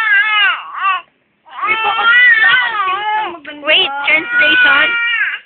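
A baby cries loudly and close in drawn-out, wavering wails with a short pause between bursts, while adult voices speak over it.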